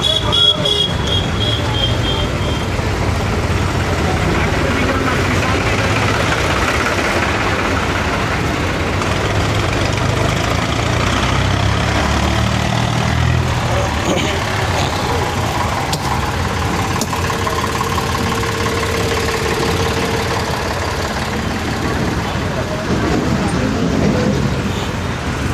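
A large crowd of tractors idles outside a grain market in Safidon, a steady, dense engine rumble with road traffic noise that runs throughout without letting up.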